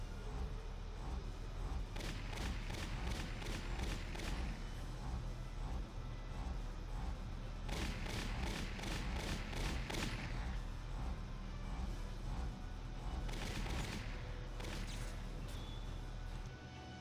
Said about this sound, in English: set up your tank to just, hit him with the mortar shots over and over and over